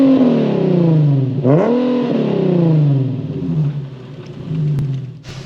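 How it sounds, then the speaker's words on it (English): Infiniti G37 with its naturally aspirated VQ engine, revved hard twice from inside the car, each rev climbing sharply and falling back to a rumbling idle, loud and close. "I also love the way the VQ sounds. Let me give you guys a quick rev."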